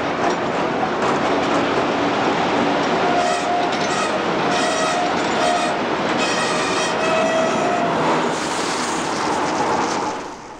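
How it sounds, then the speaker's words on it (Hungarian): Two MÁV locomotives roll along Budapest tram tracks, a loud continuous rumble of wheels with clickety-clack over rail joints and repeated squeals from the rails throughout. "a Mukit követve jön a két mávos mozdony"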